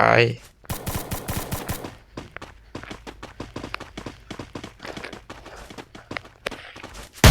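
Rapid bursts of automatic gunfire from the Free Fire battle game, dense rattling volleys for over a second, then sparser single shots and short bursts continuing close and loud throughout.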